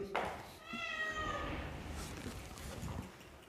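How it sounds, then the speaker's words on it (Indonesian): A cat meows once, fairly close and clear, during an evening religious study gathering at an orphanage, followed by soft background murmur and room noise. "Kucingnya siapa itu?"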